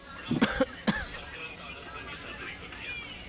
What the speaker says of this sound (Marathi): खोकला झाला जरा